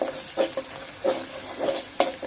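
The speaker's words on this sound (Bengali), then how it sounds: "সব মশলাগুলো ভালো করে ভেজে নিচ্ছি তেলের মধ্যে।" Spices fry in oil for chicken rezala with a soft sizzle, broken by several quick scraping stirs of a spoon in the pan, quiet and close.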